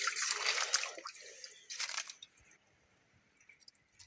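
Water collected from a hillside source near a hut, gurgling and splashing loudly into a reservoir, then fading to sparse faint drips and trickles.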